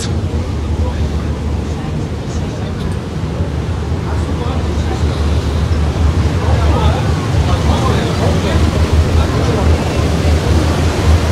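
Steady low engine drone with rushing water and wind below deck near the motor of a boat on the Bosphorus, continuous and fairly loud throughout, with no clear talk.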